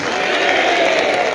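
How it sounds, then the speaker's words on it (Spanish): Church congregation applauding in praise during a Spanish-language service in Houston, a dense, steady wash of many hands clapping throughout, loud and close with no break. "Más fuerte ese aplauso para nuestro Señor Jesucristo."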